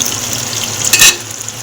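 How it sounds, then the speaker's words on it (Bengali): Rita fish frying in a pan gives a steady, close sizzle, with a brief louder burst of spattering partway through. "এদিকে হচ্ছে মাছ ভাজা, এই যে রিঠা মাছ এখানে হচ্ছে ভাজা"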